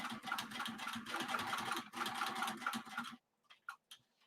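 A home sewing machine stitches around a mini messenger bag at an eighth-inch seam with stitch length set to 4, running in a steady rapid whir for about three seconds before stopping, followed by a few soft clicks.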